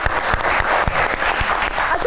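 A studio audience at a talk show applauds in a brief burst of dense clapping, with a few sharp, close hand claps standing out over the crowd.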